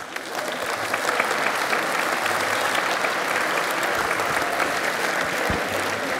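A hall audience at a presidential election debate applauds the debaters, loud, full, continuous clapping from a large crowd with a few low thumps underneath.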